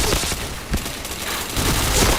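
Rapid gunfire bursts from the shooter video game Point Blank crackle in a dense, loud volley that runs almost continuously through the short stretch.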